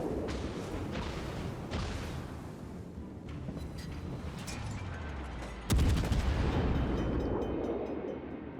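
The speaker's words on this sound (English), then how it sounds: "start shooting this hipper with my guns as much as I want" Warship guns firing at a heavy cruiser in the naval combat game World of Warships: rumbling booms and crackling salvos over steady background noise, building to one loud, sharp blast that decays slowly.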